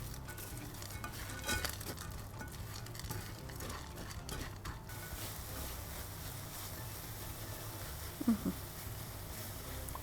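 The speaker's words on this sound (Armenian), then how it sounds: "Հիմա գրանոլան ավելացնում ենք ու արագ-արագ խառնում ենք" Granola being stirred quickly into a mango cheesecake mixture, a busy run of soft scraping and mixing strokes with light clinks, close and fairly quiet, no one talking.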